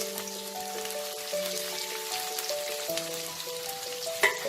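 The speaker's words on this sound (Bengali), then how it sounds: "পেঁয়াজটাকে আমি একটু লাল করে ভেজে নেব।" Finely chopped small onions frying in hot oil in a pan give a soft, steady crackle and sizzle throughout, with no talking.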